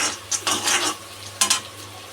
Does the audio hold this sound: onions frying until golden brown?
yes